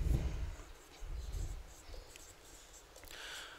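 A teacher writes on a board during a Class 10 English lesson, producing soft scratchy strokes in short bursts over a low room hum, with a faint voice in the background.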